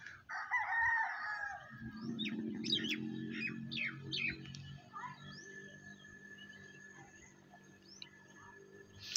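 Roosters and chickens crow and cluck at a busy outdoor produce and chicken market stall, with a loud crow near the start, repeated chirps and clucks over a steady crowd murmur.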